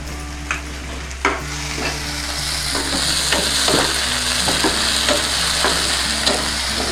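Onion, tomato and ginger-garlic paste fry in a pan while being stirred, a continuous close sizzle punctuated by repeated scraping clicks of the spoon over a low steady hum.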